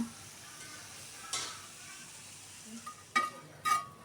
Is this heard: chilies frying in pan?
yes